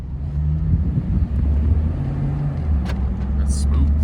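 A Coyote V8-swapped 2014 Ford Expedition with an electric steering rack drives slowly around a lot, its low engine drone steady and close throughout, with people talking over it.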